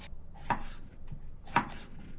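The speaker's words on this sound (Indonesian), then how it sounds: "Ia mencuci dan memotong sayuran menggunakan pisau peninggalan Kenji" A knife chops vegetables on a cutting board in two crisp, close cuts about a second apart, with faint clatter between and no voices.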